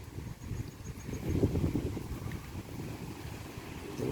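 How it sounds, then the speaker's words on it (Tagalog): Strong wind gusts buffet a microphone outdoors beside a lake, a steady low roar that swells and fades over a few seconds with no voices. "Oh, lakas ang hangin."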